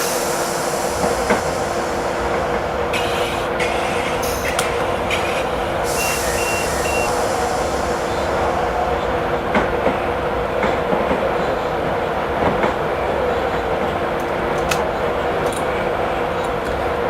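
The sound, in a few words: train running, from a video game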